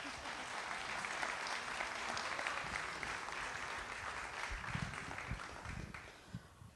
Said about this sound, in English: You can applaud now.